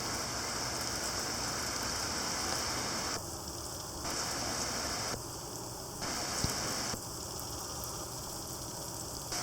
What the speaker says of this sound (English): Solid line of rain moving over. Has to be the heaviest rainfall in weeks.